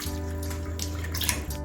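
Coconut pieces being washed by hand in water while making homemade coconut oil, with soft sloshing, splashing and dripping over a low steady hum, close by and with no talking.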